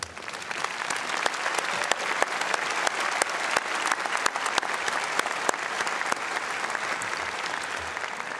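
A commencement ceremony audience applauds the standing board members, dense sustained clapping from a large crowd in a hall with sharp individual claps popping out, steady and unbroken throughout.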